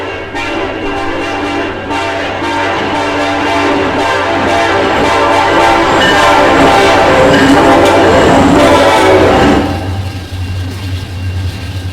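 A train rolls past in a railfanning video game, sounding its horn in loud sustained blasts over the heavy rumble and clatter of the wagons. The noise fades abruptly near the end.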